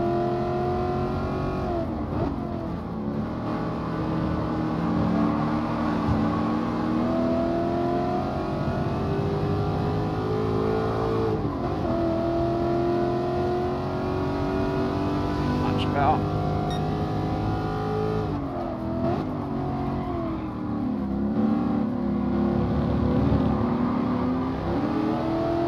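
Race cars in Gran Turismo Sport run continuously, their engines whining and shifting pitch as they rev and brake through corners, steady and fairly loud throughout with someone talking over them.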